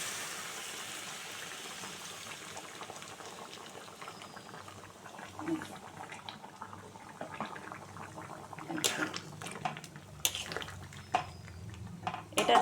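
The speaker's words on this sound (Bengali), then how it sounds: "এরপরে আমি গরম জল দিয়ে দিচ্ছি" Hot water is poured into a pot of chicken curry with potato and papaya, starting as a faint bubbling simmer and building into louder splashing and pot clatter in the second half.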